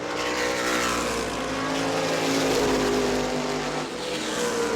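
Race cars roar around the track at New Smyrna Speedway in a loud, continuous engine drone, the pitch rising and falling as cars pass close by.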